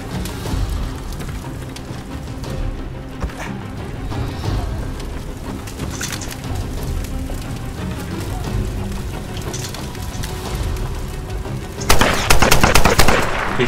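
Gunfire in an online team deathmatch in Tomb Raider Definitive Edition, steady rapid machine-gun bursts under game noise that grow to a louder, denser volley near the end, with no talking.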